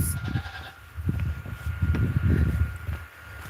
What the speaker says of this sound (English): Goaty goats.